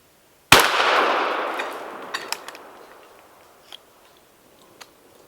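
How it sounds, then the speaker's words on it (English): A .410 shotgun fires hyper velocity number 6 shot at a round steel plate 15 yards away: one sharp, loud report with a long fading decay, followed by a few faint scattered ticks and pings. "You need to be careful shooting steel shot at a steel plate."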